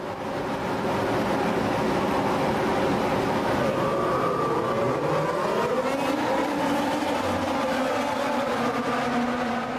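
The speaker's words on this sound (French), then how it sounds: "Bon départ de Sébastien Vettel qui vire en tête au premier virage" Formula 1 cars launching off the grid at the 2018 Bahrain Grand Prix, a dense loud roar of many engines with rising whines as the pack accelerates away, heard at a distance without talk.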